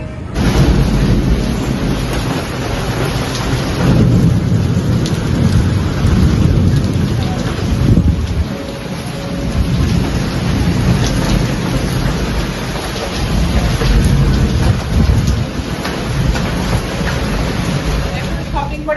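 Heavy rain pours steadily during a thunderstorm, a dense continuous roar with low rumbles of thunder rolling through, loud and close throughout with no pauses.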